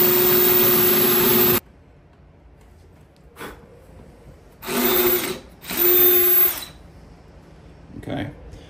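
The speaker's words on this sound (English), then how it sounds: "I'm gonna start drilling." Power drill boring a pilot hole into a furniture leg to fit a stem caster: a loud steady whine for about a second and a half, then two shorter bursts and a few faint clicks between pauses.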